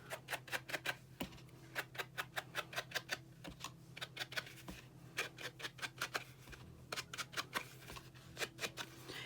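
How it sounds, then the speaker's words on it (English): A dauber loaded with dark blue ink taps quickly and repeatedly along the edges of a paper panel for a card, making a close, steady run of soft dabs in regular bursts with brief pauses, with no speech. "I'm going to take a dauber and the darker of the two blues, and I'm just going to ink the edges"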